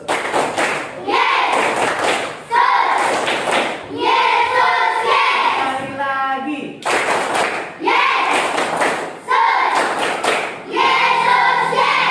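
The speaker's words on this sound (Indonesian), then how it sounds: "Tepuk tangan Yesus" Congregation hand clapping at a Christian gathering of education students, bursts of many hands clapping in rhythmic waves with brief pauses between, loud and close.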